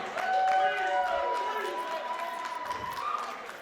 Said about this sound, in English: Tom soaking in the adulation from the crowd.